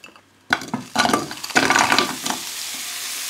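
Broccoli going into a hot pan with a little water and salt for a pasta sauce, giving bursts of hissing sizzle and stirring clatter that start abruptly and swell in several waves, close and fairly loud with no talking.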